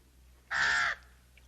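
A pet crow named Lucifer gives a single harsh caw, close and loud, lasting about half a second against a quiet background.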